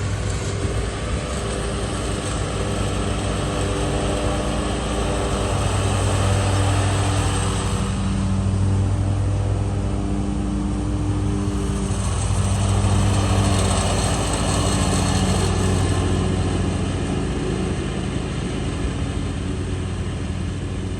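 A lawn mower working a steep mountain slope drones steadily and loudly throughout, its engine hum rising and falling slightly as it moves, with no talking over it.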